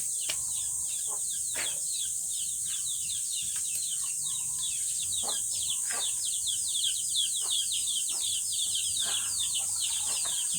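Chickens cluck and chirp repeatedly over a steady high-pitched hiss, with sharp scattered calls throughout and faint voices in the background.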